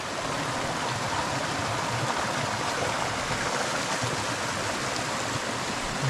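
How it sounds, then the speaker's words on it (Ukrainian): Rushing water from a Carpathian mountain stream, a steady, fairly close hiss and gurgle that holds even throughout, with no voices. "Постоянно шумить водичка"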